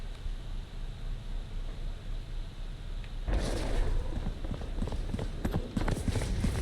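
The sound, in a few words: footsteps in the video game Valorant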